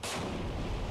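An Arleigh Burke destroyer's naval gun fires in the submarine game Cold Waters, a single heavy boom with a dense, rumbling tail that fills the short moment without talk.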